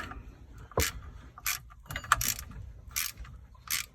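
Ratchet working a bolt loose on a boat alternator during replacement, giving several short, close, sharp ratcheting clicks in an uneven rhythm against a quiet background, with no talking.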